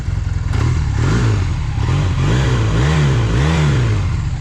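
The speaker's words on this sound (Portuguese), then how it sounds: "é um ronco típico de CB450. Muita gente que teve vai lembrar desse ronquinho." A Honda CB450 DX motorcycle engine revs up and down in several throaty cycles, loud and close, with a steady idle rumble between the rises and no talking.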